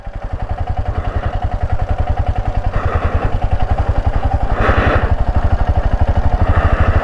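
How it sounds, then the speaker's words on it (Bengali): A motorcycle engine runs loud and close on a slippery road in Ladakh in freezing cold, a steady rapid pulsing throb with mechanical clatter that swells slightly as it pulls along. "আরে স্কিড করছে, ঘুরে যাচ্ছে বাইক।"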